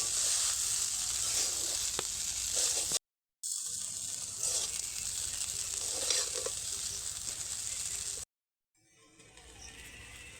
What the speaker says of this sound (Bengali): এইবার এগুলোকে নেড়ে নেব দুই থেকে তিনবার নেড়ে নেব